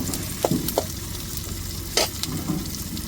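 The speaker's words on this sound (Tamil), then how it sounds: "இப்போ சின்ன வெங்காயத்தையும் சேர்த்துக்கிடுவோம். வெங்காயம் நல்லா வதங்கட்டும்." Small shallots frying in a pan for a dried masi fish thokku, with a continuous close sizzle and a few sharp clicks and scrapes of a spatula stirring through them.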